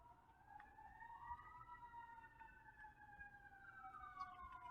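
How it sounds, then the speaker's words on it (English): A wailing emergency siren rises and falls steadily, faint and distant, with no talking over it. "We got a siren coming on."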